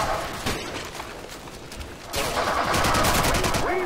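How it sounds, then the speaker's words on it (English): Dense, loud gunfire and a grenade blast sound out in a Call of Duty 4 match, with continuous rattling shots that swell louder in the second half. "Ah, that's a grenade."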